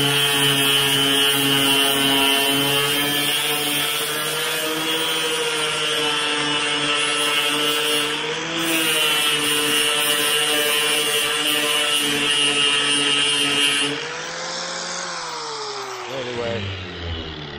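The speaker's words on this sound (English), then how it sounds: "Anyway, I got a grinding disc on here." An angle grinder with a grinding disc strips cracked Bondo filler from a 1978 V8 Chevrolet Nova hot rod body down to bare metal: a loud, continuous whine that dips briefly in pitch, then winds down near the end.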